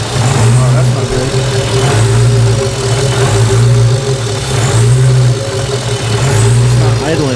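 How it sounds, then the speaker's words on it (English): A naturally aspirated Hellcat engine, its boost removed, idles loudly and unevenly up close, its low rumble surging and dipping in a rough, repeating rhythm. "It's not idling well."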